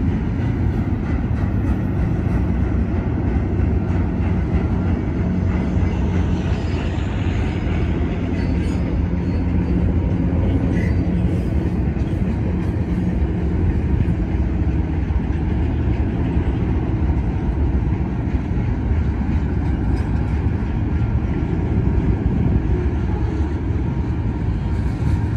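A westbound Union Pacific manifest freight train rolls through Benson, Arizona, with a loud, steady, broadband rumble of cars and wheels rushing past close by for the whole stretch, plus faint wheel squeals.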